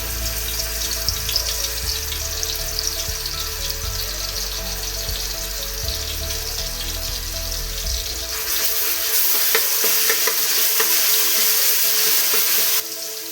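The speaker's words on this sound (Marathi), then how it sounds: "ही अद्रक, लसूण आणि कोथिंबीर पेस्ट तेलामध्ये टाकून घेऊ।" Ginger, garlic and coriander paste frying in hot oil for a mutton curry; a loud, close, continuous sizzle with stirring scrapes that brightens and intensifies partway through.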